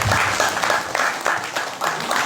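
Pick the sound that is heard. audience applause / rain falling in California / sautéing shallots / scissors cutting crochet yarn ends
audience applause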